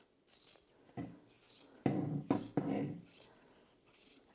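Scissors snip through fabric trimming around a finished cross stitch Christmas stocking, a few crisp close cuts with handling rustle between them and no talking.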